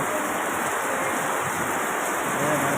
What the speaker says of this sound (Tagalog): Kaya yung ulan po, bigay ng Diyos yan